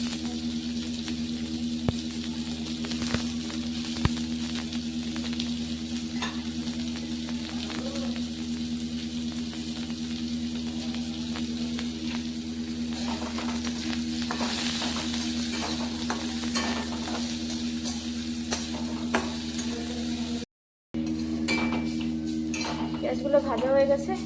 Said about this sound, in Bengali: পেঁয়াজগুলো ভাজা হয়ে গেছে।